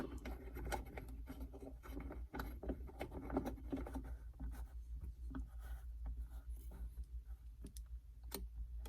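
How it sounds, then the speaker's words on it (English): A bolt on a new aftermarket mirror from Carolina Metal Masters is tightened down into a car's A-pillar, giving irregular close clicks and light scraping over a steady low hum, with no talk. "So you'll just insert that into your A-pillar and tighten that bolt down."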